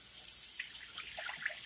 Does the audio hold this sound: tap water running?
yes